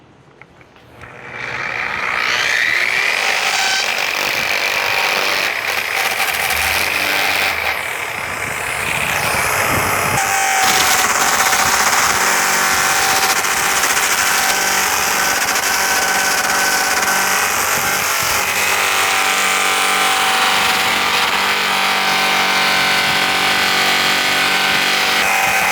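A 320 grit pinwheel sands steel toward a mirror finish, producing a loud, continuous, rough roar with a high whine that rises after a slow start and holds steady for over twenty seconds.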